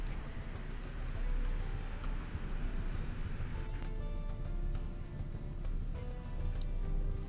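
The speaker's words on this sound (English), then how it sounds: "now you're suddenly going to start hearing the fan" A computer fan whirs as a steady, soft, broadband hiss with faint tonal hum, running continuously and evenly at low volume with no voices over it.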